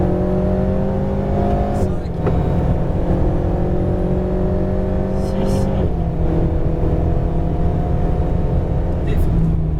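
Alpine A110R rally car on a Breton rally stage, engine revving hard and climbing through gears with sharp shift drops, loud and continuous in-car under a co-driver calling pace notes.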